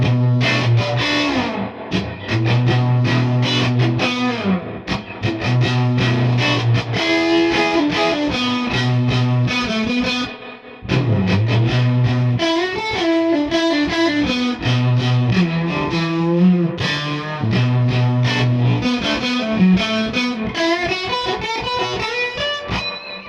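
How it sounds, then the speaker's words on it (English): A '64 Princeton Reverb guitar amp turned up to 10 with no pedal, vibrato and reverb on, plays a continuous overdriven blues guitar line with sustained distorted notes and chords, loud and close throughout, with one brief pause midway. "this time the amp is on 10, there's no pedal involved, this is just the distortion from the"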